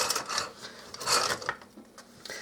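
Wire whisk stirring four cups of flour with a tablespoon of salt in a bowl, a close, scratchy rhythmic rasping in repeated strokes with no voices.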